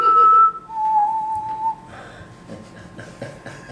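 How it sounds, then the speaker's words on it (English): A person whistles a short tune from The Hunger Games, a few clear sustained notes, loud and close, trailing off into faint room noise. "he whistled the tune from the Hunger Games"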